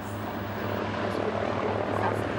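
At the Jönköping 2011 air show, a vintage SAS propeller airliner in its 1948 livery drones steadily overhead with a broad, rumbling engine roar while someone talks over it.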